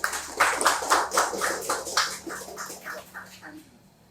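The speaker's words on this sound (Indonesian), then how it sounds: "Tepuk tangan teman-teman." Sparse, rhythmic clapping from a small group at a national student discussion forum, with individual claps distinct and gradually fading toward the end.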